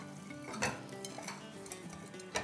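A utensil stirs chaat masala through freshly cooked bite-sized kebabs in a pan, soft scraping and clinking strokes with a faint sizzle, close and quiet, no voices.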